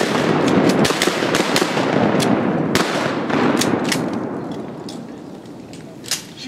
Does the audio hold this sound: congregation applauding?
no